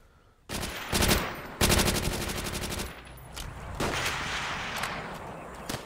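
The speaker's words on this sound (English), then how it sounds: "I think I'm using a submachine gun." Gunfire from a submachine gun in the online shooter World at War Online, with two loud sustained automatic bursts followed by scattered shots and battle noise, close and continuous with no talking.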